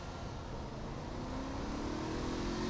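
A regular car is driven in the video game Saints Row 3 with a steady engine drone and a slowly rising tone, a constant quiet noisy bed with no talking.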